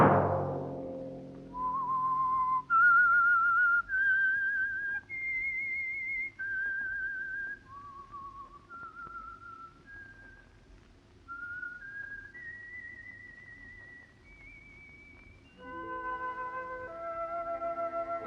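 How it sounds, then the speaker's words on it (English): Melodic whistled theme tune of the 1940s radio mystery show The Whistler, a lone clear whistle carrying a slow, haunting melody of held notes that rise and fall, loud and close, with a soft orchestral backing entering near the end. "Let that whistle be your signal for the Signal Oil program, The Whistler"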